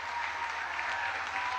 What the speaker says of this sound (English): No way people are clapping for that right now.